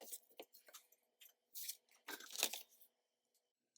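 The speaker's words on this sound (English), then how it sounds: "So let me just trim this." Sheet of paper from a Dollar Tree legal pad planner trimmed with scissors, giving several short crisp snipping and tearing bursts close by, spaced irregularly, with quiet gaps between cuts and no talking.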